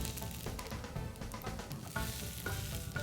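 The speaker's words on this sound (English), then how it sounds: "Coat a heated pan with the sesame oil. Place the ネギ味噌 and soy sauce onigiri into the pan." Rice balls, some with green-onion miso and some with soy sauce, frying in sesame oil in a heated pan, a faint, steady sizzle with light crackles and occasional stirring sounds, quiet and close.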